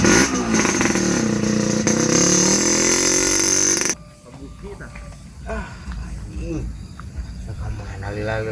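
A motorcycle engine runs loud and steady for about four seconds, then cuts off abruptly, leaving quieter background with faint, intermittent sounds.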